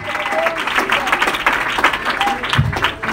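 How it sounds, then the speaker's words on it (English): A church congregation clapping their hands in praise during a sermon, a close, busy patter of many hands with uneven accents, joined by a couple of brief vocal exclamations and a low thump near the end. "Clap your hands, somebody. Let's give him praise."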